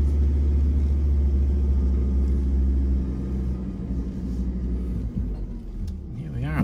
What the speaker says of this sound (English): Put her into four low and crawl up, pulling the trailer.